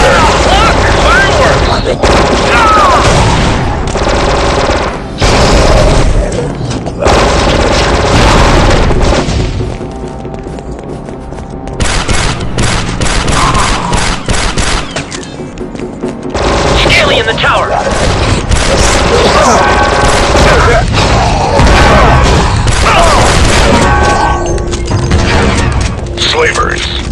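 Gunfire and explosions fill a firefight in the Star Wars Republic Commando video game: loud booms, rapid bursts of shots and heavy blasts one after another, with brief lulls and voices calling out between them.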